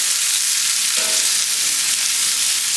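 Fajita vegetables sizzling in a hot pan: loud, continuous close-up hiss of frying with a brief stirring scrape near the middle, no voices.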